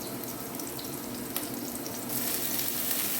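Leaves tossed into a pan of onion and a little grated coconut browning for a Kerala pathila thoran, giving a steady broadband sizzle that swells louder for the last second or so, with no voices.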